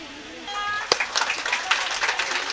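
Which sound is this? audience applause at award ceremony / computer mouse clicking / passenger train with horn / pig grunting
audience applause at award ceremony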